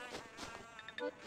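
A honeybee in the Animal Crossing: New Leaf video game gives a short, quiet, wavering buzz with a few brief brighter chirps, alone with no talk.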